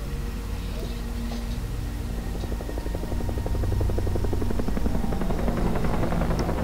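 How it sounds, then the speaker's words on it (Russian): A helicopter in the shooter game Far Cry 3 flies nearby, a steady loud rotor thump and engine drone that grows slightly stronger partway through and continues throughout. "Вертолеты еще летают."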